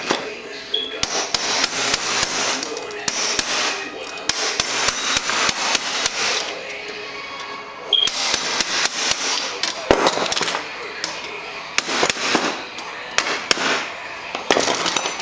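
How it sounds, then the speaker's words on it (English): Repeated sharp metallic hammer blows drive a chisel into a fixie bicycle frame, struck in rapid irregular bursts close up and loud, with brief pauses between runs. "Then come back with your chisel and finish it."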